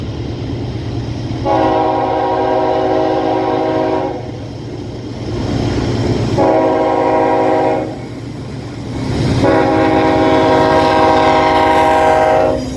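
A freight train led by three rebuilt AC44C6M locomotives passes the Pratt Road grade crossing in Harpursville, New York, sounding three loud, long horn blasts over a steady low rumble of engines and rolling cars.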